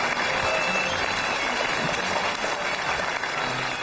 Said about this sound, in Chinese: 来，掌声有请。